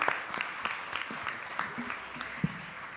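Audience applause at an awards ceremony for a leadership honoree, a steady wash of many hands clapping in a large hall with a few sharper claps standing out, moderately loud and continuous.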